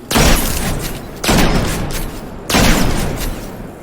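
Felwinter's Lie shotgun in Destiny 2 fires three loud, booming blasts about 1.2 seconds apart, each with a sharp crack and a rumbling tail, with no voices.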